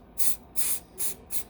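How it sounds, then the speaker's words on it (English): Four short hissing bursts of a spray can are applied to glued slots on a barber chair part, each roughly a fifth of a second, close and crisp, with brief quiet gaps between them. "I take my spray,"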